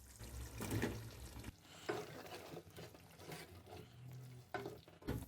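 Onion and capsicum fry with chicken in a pan, a fairly quiet, uneven sizzle. Bursts of spatter and scraping stirs rise and fall over about five seconds, with no talking.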